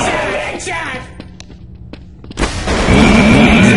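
A grenade explodes in a multiplayer shooter video game, a loud boom around mid-clip that follows a few faint thuds and clicks and swells into a sustained roaring rumble to the end.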